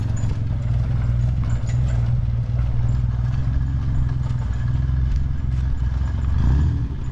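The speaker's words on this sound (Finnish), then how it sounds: "Hieno moottoripyörä." A motorcycle on a street in Lappeenranta, Finland, gives a steady, close, low rumbling idle with a fast pulsing beat that lasts throughout. No one speaks.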